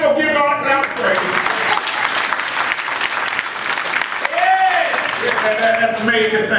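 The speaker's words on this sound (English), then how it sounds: "Give God a clap of praise." A church congregation at Evangelist Chapel AME claps in praise during a sermon: dense, sustained applause filling the room, with a preacher's voice speaking over it.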